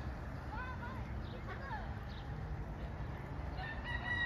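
Roosters crowing at a zoo, two drawn-out crows rising and falling in the first two seconds, over a steady rumbling outdoor background with faint murmurs, and a thin high tone near the end.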